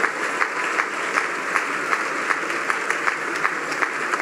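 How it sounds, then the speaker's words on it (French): A church congregation at a sermon in Cameroon claps in a steady, even rhythm, with many hands together in a room and a faint murmur beneath. "those of you who are clapping, keep clapping."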